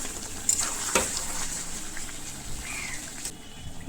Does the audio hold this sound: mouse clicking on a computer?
no